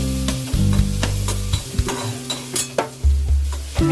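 Chopped onion sizzles loudly in a hot pan and is stirred with a spoon, giving a series of scraping strokes and clinks over a constant frying hiss. There is no speech.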